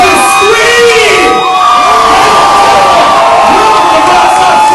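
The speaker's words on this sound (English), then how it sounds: "I want you to scream." A rock concert crowd screams and cheers loudly and continuously, with high whoops and shouts forming a dense roar close by.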